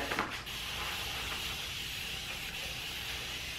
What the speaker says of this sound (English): I'm going to just spritz it with some water.